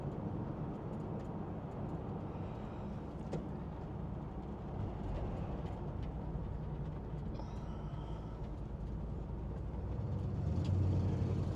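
1964 Mercury Park Lane convertible cruising down a freeway, a steady low engine and road rumble with wind noise that swells slightly toward the end, no talking.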